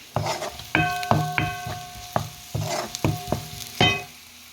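Beaten eggs with onion and green chilli are stirred in a pan, a series of sharp metallic clinks and scrapes in an uneven rhythm over a faint sizzle.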